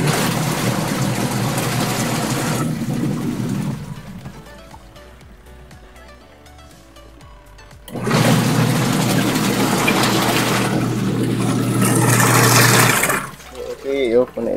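A washing machine being repaired runs with a loud, steady whirring and sloshing of water, dropping away midway before surging back loud again.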